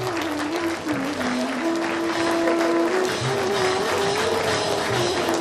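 An audience at a school sports day prize ceremony gives strong, continuous applause lasting about five seconds, with a faint voice audible over the clapping.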